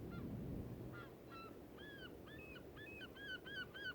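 Gulls call by the sea in a run of short, rising cries that come quicker and closer together toward the end, over a steady low rush of surf and wind.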